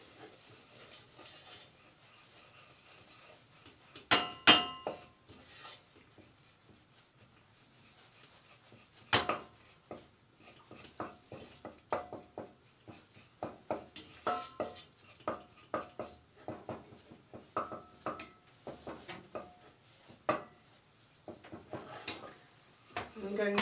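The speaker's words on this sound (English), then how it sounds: "I'm going to add the flour and gently stir it in. A nice smooth paste." A spoon stirs flour into a smooth paste in a pan for leek macaroni cheese, giving quiet scraping and scattered sharp clinks of utensil on metal, irregular and close throughout.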